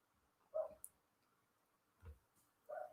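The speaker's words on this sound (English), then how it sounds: "Can you hear the dog? It's barking again." A few short, faint dog barks sound from a distance, spaced apart with quiet gaps between them.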